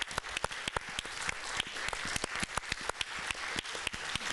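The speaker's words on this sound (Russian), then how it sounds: "А мы поддерживаем аплодисментами Василия Ломаченко." Crowd applause for boxer Vasyl Lomachenko at a boxing event, a dense steady patter of many hands with sharper individual claps standing out, moderately loud and unbroken for the whole stretch.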